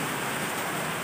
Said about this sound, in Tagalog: Naglalakas ng ulan